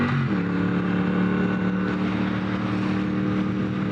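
A Triumph Bonneville Bobber motorcycle engine pulls hard in second gear, its steady, loud droning note climbing in pitch after a brief early shift, with continuous wind rush and no talking.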